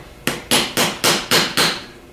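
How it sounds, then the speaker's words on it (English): Six evenly spaced sharp metallic taps of a hammer striking a small drift to knock a rusty back plate off an engine part, close and crisp with a steady rhythm and no talk. "take a hammer and a small drift or an extension or something and tap this back plate off of here"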